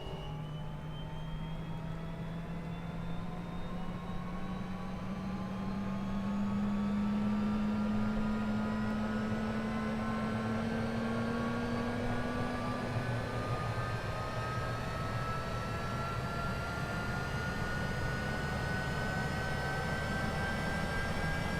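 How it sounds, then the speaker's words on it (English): In Microsoft Flight Simulator, an aircraft's left jet engine spools up with rising whines and tones climbing steadily over a constant rumble, growing louder then holding at a sustained roar. "And left engine's going to start."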